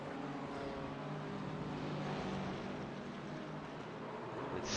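An Aston Martin GT4 race car in iRacing at Sebring drones steadily at a faint, distant-sounding level, a continuous broad engine and road roar with no talk over it.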